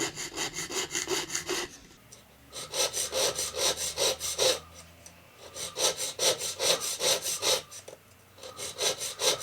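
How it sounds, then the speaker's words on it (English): A toothing saw cuts comb teeth into a small piece of wood in a Kiso Village workshop, making rapid, even back-and-forth rasping strokes in close, loud bursts separated by short pauses. "The process of carving the teeth on the surface of wood cut into the desired size is called toothing, using a toothing saw."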